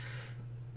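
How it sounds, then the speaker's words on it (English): A single loud, close cough bursts out at the very end of a brief, quiet stretch of low hum, with no talking. "Just in time to cough loudly into the camera."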